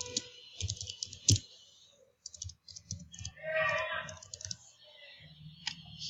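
Fingers tapping out an email subject line on a computer keyboard, making quick irregular key clicks in small bursts with brief gaps, close and fairly quiet.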